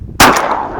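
A single loud shotgun blast fired at a duck on a public-land duck hunt, close and sharp, with a brief ringing decay afterwards.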